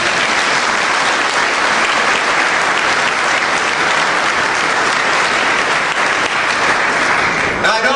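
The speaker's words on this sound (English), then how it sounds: "Give them a round of applause." An audience at a political unity breakfast claps for the gubernatorial candidates, dense and sustained applause filling the room for several seconds before tapering off at the end.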